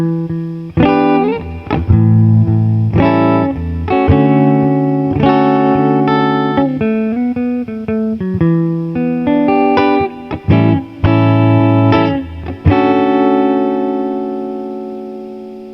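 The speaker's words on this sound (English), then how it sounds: "So let's hear it. Here is the Gretsch first" A Gretsch electric guitar played through an amplifier, ringing out sustained chords and single notes in a steady phrase with some effects coloring, loud and close with no talking.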